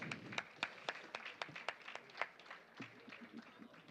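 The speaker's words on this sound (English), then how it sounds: "Please give them a round of applause." An audience at an evening cultural program applauds a performance, with moderate, fairly thin clapping from a mid-sized crowd that rises and then tapers off, heard at some distance in a hall.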